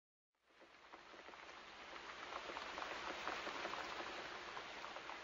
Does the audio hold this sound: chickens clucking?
no